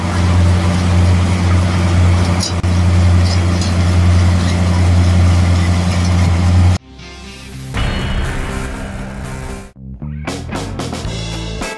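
Tractor-drawn peat extruder working in a field, a loud, steady engine drone with deep humming tones for about seven seconds before the sound cuts to music.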